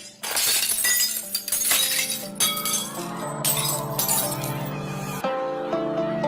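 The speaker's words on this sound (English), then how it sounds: "all the energy in the sound of the singer's voice is transferred to the glass, and it shatters" Glass shatters loudly in a burst of sharp breaking, followed by a cascade of ringing clinks and tinkling shards scattering over several seconds, with a second smaller crash near the end.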